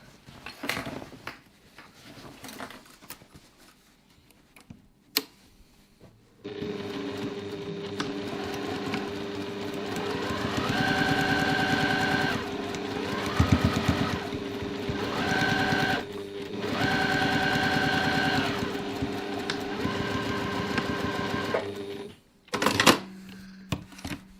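A sewing machine stitches the corners of a reusable grocery bag, running steadily for long stretches with brief pauses, its motor hum and needle rattle close and clear, with handling clicks before and after.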